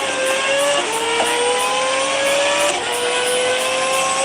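A race car engine in the EA Sports Real Racing 3 video game drones loud and steady, pitch climbing through each gear and dropping briefly at shifts, with a faint repeating tick over it and no voices.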